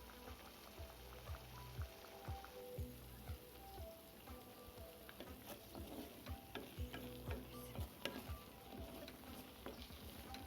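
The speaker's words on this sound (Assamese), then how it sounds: "এতিয়া মই তেল এৰি যোৱালৈকে অকণমান ভাজিম।" Onion, cashew and chili paste fry in oil, giving a soft, continuous sizzle broken by irregular spoon scrapes and bubbling pops as the paste is stirred.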